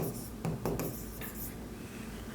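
Pen or marker scratching across paper or a board during an accounting lesson, short soft strokes with brief bursts, close and quiet, with no talking.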